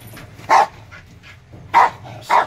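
Three sharp dog barks, two close together near the end, loud and near over a low background rumble.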